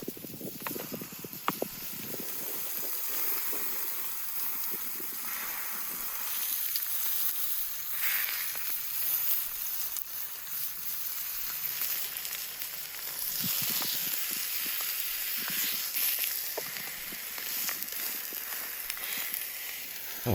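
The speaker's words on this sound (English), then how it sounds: "The sizzling sounds and tantalizing aromas of frying meat are like music to the ears of any true meat lover." Meat frying over an outdoor fire, a soft, continuous sizzle and crackle with occasional small pops, fairly faint and steady throughout.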